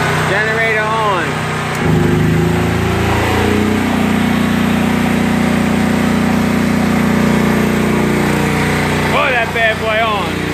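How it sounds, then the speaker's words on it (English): A portable generator, wired through a 240-volt twist-lock connection to power a whole house, starts and settles into a loud steady drone, with someone speaking briefly at the start and end. "Generator on."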